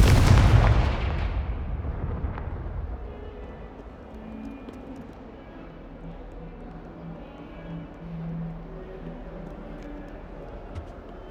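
A Confringo fire spell blasts in the video game Hogwarts Legacy, a loud close explosion whose booming burst decays over about two seconds into a lingering low rumble with faint game ambience.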